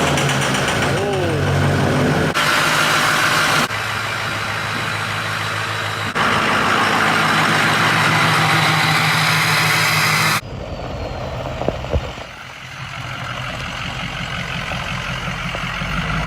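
2005 Ford F-Series truck with a 6.0 Powerstroke diesel, inherited and sitting idle, runs with a steady idling clatter and hum through several abrupt cuts, while other noises intrude partway.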